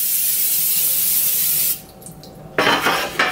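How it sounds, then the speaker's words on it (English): Cooking spray hisses onto a donut pan in short close bursts after a stretch of broadband noise and a brief quiet pause. "Gonna spray the donut pan with cooking spray."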